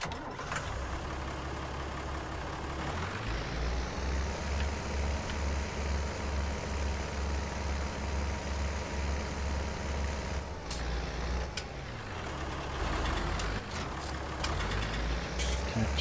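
A tractor engine in Farming Simulator 19 on a farm in Felsbrunn hums steadily at a low pitch, then its revs rise and hold, with a few clicks and shifts near the end.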